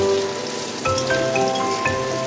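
Chopped banana flower sizzles and crackles steadily in a hot pan, close and continuous, with faint clinks of a utensil against the pan.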